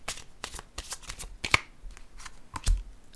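Tarot cards are shuffled close up in a quiet room, with a steady run of soft riffling flicks and a few sharper snaps of the deck.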